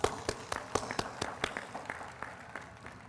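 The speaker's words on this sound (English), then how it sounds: "Please give them a big round of applause." Sparse, quiet applause from a convocation audience at Aligarh University, a handful of distinct claps at an uneven, slowing rhythm rather than a full ovation, with no speech.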